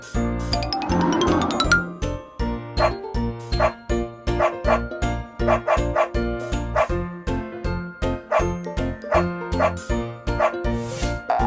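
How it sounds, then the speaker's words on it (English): A cartoon dog in a children's egg-colour learning song barks over a bouncy musical backing, with repeated short yaps and chimes set against a steady beat. "Dog."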